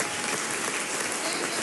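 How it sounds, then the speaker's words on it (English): Steady applause fills a parliamentary chamber after a motion passes, a dense, even wash of many hands clapping at moderate loudness with no pauses. "The motion was passed in Parliament and met with applause"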